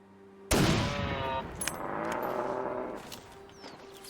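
A rifle shot rings out in The Long Dark during a moose hunt: a single loud, sharp report with a long rolling echo fading across the open wilderness, no talking over it.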